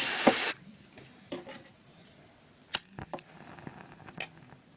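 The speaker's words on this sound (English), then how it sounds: "Perfume and lighter trick" Perfume sprays in one short, close burst, followed by a quiet stretch of small clicks and faint ticks as a lighter is struck near the mist.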